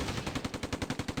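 In the Close Combat strategy game, a steady machine-gun burst rattles on, with evenly spaced rapid reports, loud and continuous across the whole short moment.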